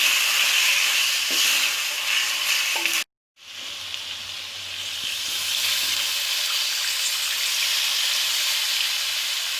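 A glass of water is added to mutton cooking in a pot for Peshawari namkeen gosht, giving a loud, steady sizzling hiss that breaks off briefly and then continues.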